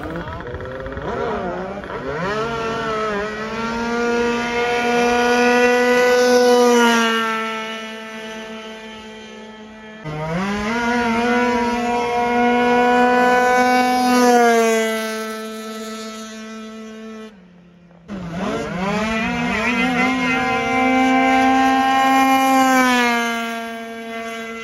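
Drag scooters making high-speed runs at a scooter power weekend: three loud, screaming two-stroke engine passes, each revving up through rising whines to a sustained high pitch before cutting off, one run after another.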